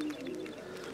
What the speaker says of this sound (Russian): Сейчас будем пробовать голубей